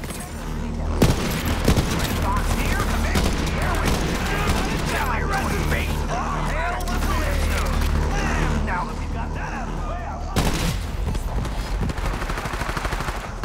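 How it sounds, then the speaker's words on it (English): An enemy ship fires its guns in the Borderlands 3 video game, a rapid clatter of gunfire and mechanical bursts over a low rumble, loud and busy, with a player's voice talking over parts of it. "now the ship is shooting at me, though"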